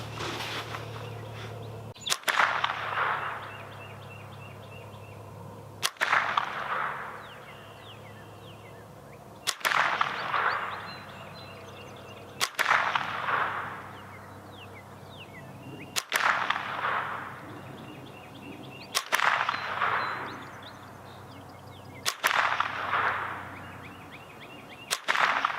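Rossi RS22 semi-automatic .22 rifle firing Winchester rounds outdoors: seven sharp, loud cracks spaced a few seconds apart, each trailing off into a brief echo, with no talking.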